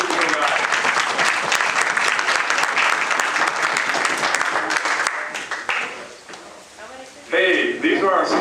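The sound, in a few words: audience applause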